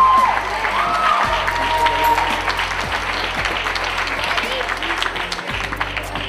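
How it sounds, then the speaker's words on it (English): A crowd at a dance gala bursts into loud, sustained applause with some cheering, while an announcer's voice carries over the clapping. "Let's give Leah a round of applause."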